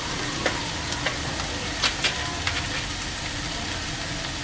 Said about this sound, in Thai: เสร็จแล้วเราจะใช้เวลาผัดสักพักหนึ่งนะฮะ